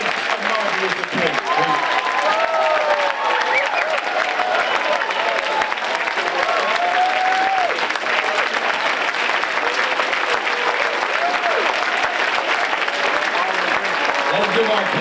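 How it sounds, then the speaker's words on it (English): A luncheon audience applauds a keynote speaker at a Martin Luther King event, dense steady clapping from a large crowd filling the room for the whole stretch, with scattered voices and cheers mixed in. "Let's give our keynote speaker for the 40th Luncheon a round of applause."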